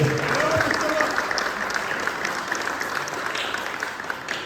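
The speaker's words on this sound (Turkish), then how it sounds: "Alkış, alkış." Steady applause from an audience at the 2025 Bodrum Open award ceremony, dense and sustained throughout with some crowd noise mixed in.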